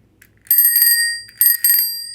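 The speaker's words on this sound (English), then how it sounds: "It's a vintage bike bell from the 1950s." A vintage 1950s bicycle bell rings in two clear bursts of rapid metallic dings, loud and close with bright sustained overtones and no voices.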